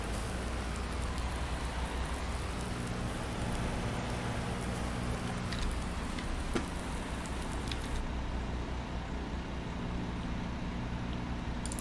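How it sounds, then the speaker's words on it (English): Rain falling in Farming Simulator 19, a dense, steady hiss of drops on surfaces with a low engine-like hum beneath, continuous and unbroken. "This rain is never ending."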